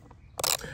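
A socket ratchet tightens bolts on a battery lawnmower, giving a brief close burst of rapid clicks after a soft tap.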